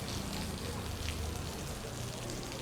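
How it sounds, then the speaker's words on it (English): Steady rain falling outdoors, a soft continuous hiss of drops on surfaces, faint and even throughout with no voices. "Leftover rain from yesterday."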